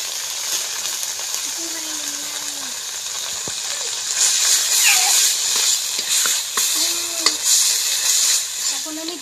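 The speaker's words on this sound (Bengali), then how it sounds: "হালকা একটু সরষে বাটাটাকে ভেজে নেব।" Mustard paste frying lightly in a hot pan for a taro-stem curry, a steady close sizzle and hiss with occasional utensil clinks and scrapes, growing louder and denser in the second half.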